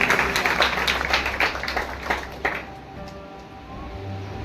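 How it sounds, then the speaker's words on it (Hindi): A church congregation claps loudly for several seconds during a Hindi-language service. The applause is dense, then fades, leaving a low hum. "उस यीशु को जोरदार ताली बजाएंगे।"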